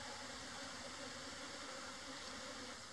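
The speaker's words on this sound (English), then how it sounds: "The sound of bees." A soft, steady buzzing hum of bees fills the air, continuous and fairly faint, with no voices.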